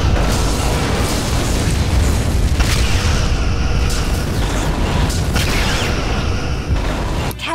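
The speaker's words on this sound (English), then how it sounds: "Romulan vessel destroyed." A Romulan ship blows up in the space combat game Star Trek: Legacy, a loud sustained booming rumble that fills the whole stretch with no speech over it.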